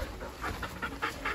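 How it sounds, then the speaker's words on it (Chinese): A golden retriever panting rapidly and rhythmically, with quick breathy puffs repeating about every fifth of a second, close up and moderately loud over a low steady background hum. "金毛蛋蛋会握手了"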